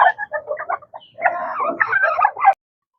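Backyard chicken clucks in quick, close, fairly loud bursts, a brief pause and then a longer run of throaty clucking before cutting off.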